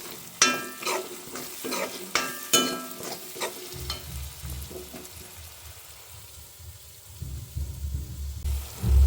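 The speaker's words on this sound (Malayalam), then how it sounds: "ഇനി ഇതിനാവശ്യമായ മുളക് വറുത്തെടുക്കാം" Chillies sizzle and crackle in a hot pan, with sharp stirring scrapes early on, then a steadier low frying hiss.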